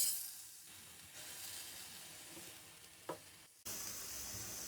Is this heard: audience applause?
no